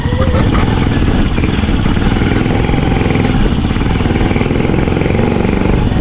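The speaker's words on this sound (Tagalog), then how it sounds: "Nahihirapan kasi yung motor ko." A struggling motorcycle engine labors steadily at close range, its rough, strained drone continuing without a break throughout.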